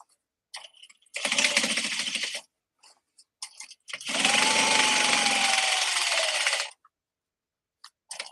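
Sewing machine top stitching a fabric bag, running in two bursts, a short one of about a second and a longer one of nearly three seconds, with small clicks and handling noises between them.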